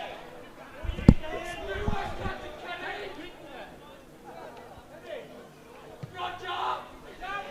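Crowd at a Friday night Australian rules football match, a murmuring spread of spectators with a sharp thud early on, while commentators talk over the background noise.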